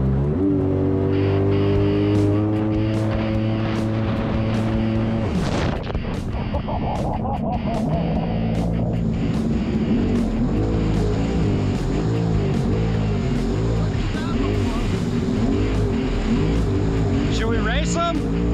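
Jet skis run on the Missouri River, their engines droning loud and steady with rising and falling revs as the craft accelerate and pass, the pitch sweeping sharply around the middle.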